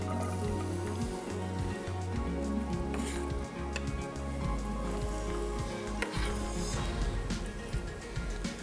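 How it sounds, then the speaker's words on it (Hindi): Garlic sautéing in hot oil in a pan for Mongolian chicken, a steady close sizzle and crackle with low rumbling underneath, continuous and fairly loud throughout with no talking. "चलिए सबसे पहले डालेंगे गार्लिक।"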